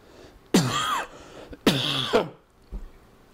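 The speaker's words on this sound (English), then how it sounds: "Had to cough that whole time." A man's harsh, raspy coughs, two loud close fits of about half a second each, followed by a fainter short cough, with quiet pauses between.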